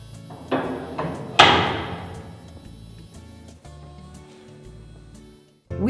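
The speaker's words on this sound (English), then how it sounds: "This is the locking mechanism that would lock and unlock all the cells." An old jail cell locking mechanism at a pioneer jailhouse museum is worked by hand, giving a few loud metallic clanks and thuds, one heavy slam, then softer scraping and knocking, close by with no talk.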